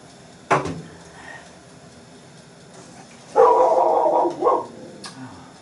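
A pet dog barks indoors near a kitchen, a sharp single bark early on, then after a pause a burst of two quick, loud barks close by, with quiet room sound between.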